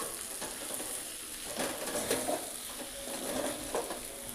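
Valor papdi and potato curry being stirred in a hot pan, with a steady sizzle of frying and soft scraping strokes of the spoon, close and continuous without any talk.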